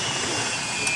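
A big airplane's engines roar steadily and loudly, close by, with a constant high whine over the broad rumble and no voices.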